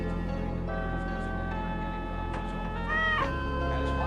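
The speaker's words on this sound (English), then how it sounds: "Then the cat came." A cat meows and caterwauls in a drawn-out, wavering cry set against a sustained droning musical background, loudest in the latter half.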